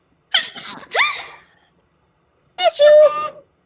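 A single loud sneeze rings out nearby, followed after a short pause by a brief spoken reply.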